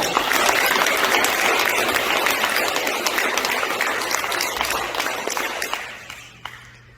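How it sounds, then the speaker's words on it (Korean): Dense, loud applause from a congregation at a Buddhist dharma talk, sustained for several seconds before tapering off and fading into quiet at the end. "큰 박수 한번 쳐보실래요?"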